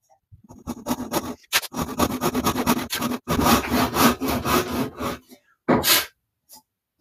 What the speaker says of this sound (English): we're going to cut down along this one to create a kerf on this side